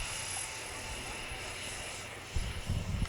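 XFly C-17 Globemaster model jet with four electric ducted fans spooling up to full throttle outdoors, a steady whining fan roar that swells louder near the end, with voices talking over it.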